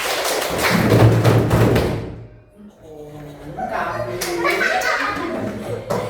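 A group in a classroom claps hands together in a dense counted rhythm burst, then pauses before a looser round of clapping mixed with children's voices.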